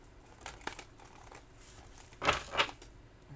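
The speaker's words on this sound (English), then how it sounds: "Final shuffle." Soft papery riffling and crinkling of tarot cards being shuffled, quiet and close, with a couple of brighter flutters near the end.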